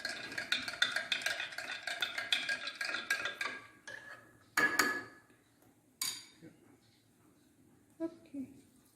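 Close, rapid clinks and scrapes of a spoon stirring salt solution in a bowl for kimchi, a busy rhythmic run for several seconds, then a few scattered knocks under quiet speech.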